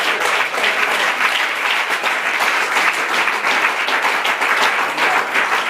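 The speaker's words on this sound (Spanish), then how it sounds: "Claro que puede darle ese aplauso al Señor de la gloria." Steady, dense applause from a church congregation, loud and sustained with no gaps, with no voices over it.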